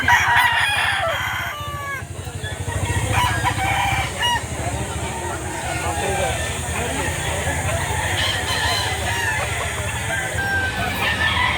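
Roosters crow and hens cluck amid a busy outdoor crowd at a chicken market in Lipa City, Batangas, with people talking underneath and a steady background hiss.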